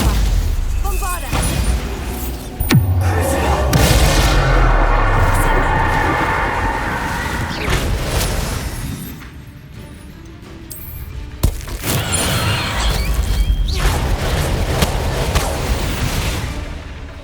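Bombarda spell blasts in Hogwarts Legacy combat, with heavy booming explosions and cracks over a rumbling battle, as a voice talks throughout.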